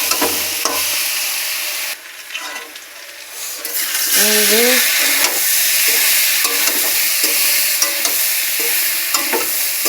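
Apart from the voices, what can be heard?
stirring frying vegetables with turmeric and salt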